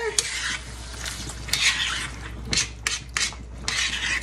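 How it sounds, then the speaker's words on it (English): Lasagna sauce being stirred in a pot after a 23.5-ounce jar of spaghetti sauce is added, with repeated scraping and rubbing strokes of a utensil against the pan over a light sizzle. "And mix that all together."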